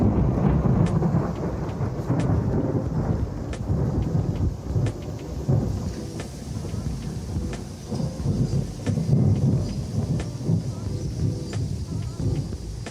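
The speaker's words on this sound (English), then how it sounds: "It's starting to rain" Rain beginning to fall outdoors with thunder rumbling, a steady hiss of rain with scattered sharp drips and a low rolling rumble, fairly loud and close, with no talk over it.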